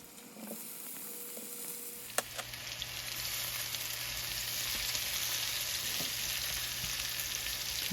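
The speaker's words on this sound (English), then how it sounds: "Go ahead and chunk up the potatoes and get them in the skillet" Chunked potatoes frying in grapeseed oil in a skillet, a steady close sizzle that swells after a sharp clink of the pieces going in and continues loudly to the end.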